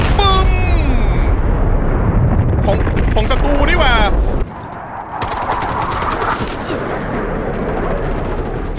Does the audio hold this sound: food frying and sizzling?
no